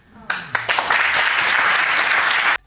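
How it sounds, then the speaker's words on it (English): Studio audience breaks into loud, dense applause at a paternity test results reveal, starting with a few scattered claps before swelling into sustained clapping that cuts off abruptly. "I don't want to hear you clapping for that"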